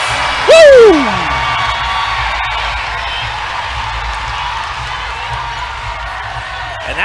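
Basketball crowd cheering for the Greensboro Groove at an Upshot League game against Savannah Steel, opening with a loud whoop, then a sustained arena roar that slowly settles.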